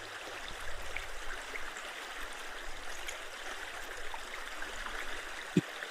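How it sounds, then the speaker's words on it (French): Steady broadband rush of a powerful waterfall tumbling through wild Canadian terrain, a continuous roar heard from a moderate distance with one brief sharp knock near the end. "Une cascade puissante dévale le relief sauvage."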